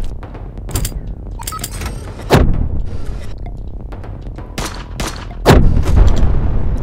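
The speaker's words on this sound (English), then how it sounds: "the turret just blew up those guys" A turret fires and blows up guards in the video game Heat Signature, with sharp repeated gunshots and several heavy booming blasts spread across the stretch, loud and close.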